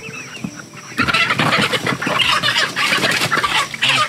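Chickens cluck loudly and continuously at close range in a backyard coop, a busy overlapping chorus of squawks and clucks that begins abruptly after a quiet first second.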